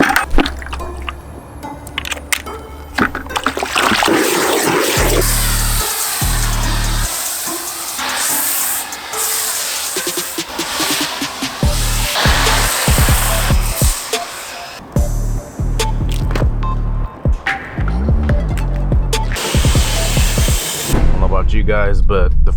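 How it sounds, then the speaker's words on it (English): Water spraying over a dusty car during a quick wash, a continuous hissing rush with splashing and shifting intensity, close and loud throughout. "So let's give it a quick wash."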